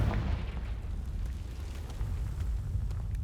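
A Confringo explosive spell cast in Hogwarts Legacy, a deep booming blast at the start followed by a low rolling rumble and scattered crackles for a few seconds, with no one talking.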